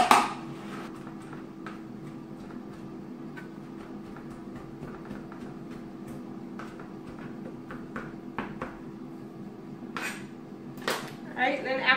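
A knife chops canned mushrooms on a board in a home kitchen, giving light, scattered taps and clicks that come and go over a low steady background hum.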